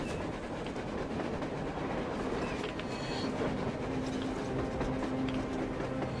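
A train rumbles past on the surface in the Metro Exodus video game, a steady dense roar with rhythmic clatter, loud and continuous with no talk.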